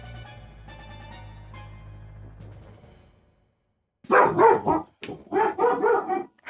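Puppies bark in a burst of sharp, close yips and barks after a stretch of quiet game music, several rapid barks in clusters, fairly loud.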